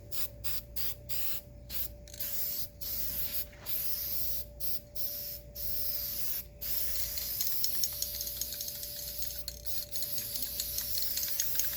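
Spray paint can hissing in repeated bursts as a scrap-metal fire pit grill is painted black, with short silent gaps between sprays early on and a steadier, denser hiss later; close and loud, no talking.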